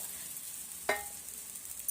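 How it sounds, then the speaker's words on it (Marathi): An oil-rich puran poli laid on a hot griddle makes a short, sharp sizzle as it lands, then settles into a quiet, steady hiss with no talking. "तव्यावर सोडून दाखवते मी तुम्हाला पूर्ण तेलाच्या पोळी असल्यामुळे ही लाटण्याला चिटकत नाही तव्यावर व्यवस्थित पसरली जाते"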